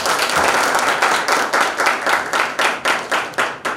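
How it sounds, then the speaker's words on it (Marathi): An audience claps loudly at a business presentation, a dense burst of applause that settles into rhythmic, pulsing unison clapping. "फार जोरदार टाळ्या पाहिजे."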